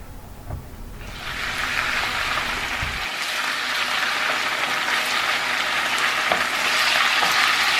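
Chicken browns in a non-stick pan over high heat for Jamaican brown stew chicken, a steady, close sizzle swelling in after a second and hissing on unbroken with a few faint clicks from stirring.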